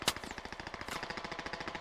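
Rapid automatic gunfire in the tactical shooter Squad, a sharp opening crack followed by a steady, fast rhythm of shots at moderate loudness with no talk.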